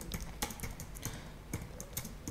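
Someone types code on a computer keyboard during a C++ programming lesson, a close, irregular run of crisp key clicks with small pauses between bursts.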